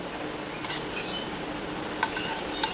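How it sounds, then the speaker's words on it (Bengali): A folded tiffin snack fries in a little oil in a pan, giving a continuous close sizzle with a few light clicks of a spatula as it is turned. "এটাকে উল্টিয়ে পাল্টিয়ে একটু ভালো করে ভেজে নিতে হবে"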